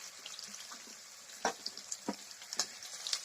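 Tomatoes and mint being stirred in a frying pan while cooking biryani: a soft sizzle runs throughout, broken by a few sharp scraping strokes of the spoon near the middle and end.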